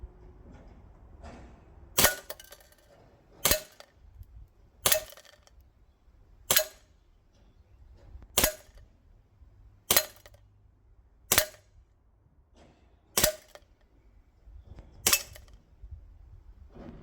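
An Umarex VFC Walther PDP Compact gas blowback airsoft pistol fires nine sharp, crisp shots at an even pace about 1.5 seconds apart, each a loud snap with a brief metallic ring, and near silence between them.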